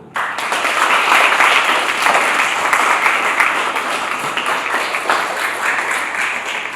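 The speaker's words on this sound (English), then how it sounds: "Let's welcome her by a clap." Audience clapping at a school student debate ceremony during the handing out of certificates, a steady, dense wash of applause sustained throughout, fairly loud and close.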